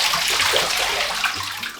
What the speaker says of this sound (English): First, I soak them in warm water in a bathtub.